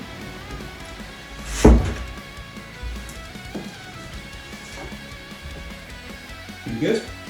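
A door thumps shut in a soundproofed home studio, one solid dull thud followed by a couple of softer knocks, with someone talking throughout.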